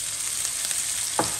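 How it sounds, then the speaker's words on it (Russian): Oil sizzles steadily in a pan, a constant crackling hiss, with a brief scrape of stirring near the end. "И теперь тоже обжариваю"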